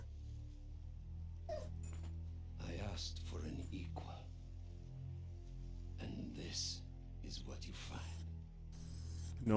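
A dog whines and gives a few short yips and barks indoors, intermittent and fairly close, mixed with a person talking over it.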